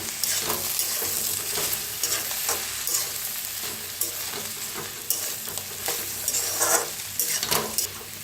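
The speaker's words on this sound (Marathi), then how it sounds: "बघा छान असं भेंडीला मिक्स करून घेऊया" Okra with crushed roasted peanuts and garlic masala is stirred in a frying pan: a steady sizzle runs under repeated close scraping strokes of a spatula, with no voices.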